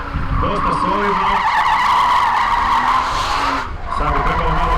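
A drift car at a competition qualifying run skids around cones, its tires squealing continuously over a loud, steady engine roar that dips briefly near the end, with a commentator talking over it.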